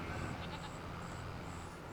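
Video-game sheep bleat in a few short, repeated calls over a steady background hum, close and moderately loud, with no talking.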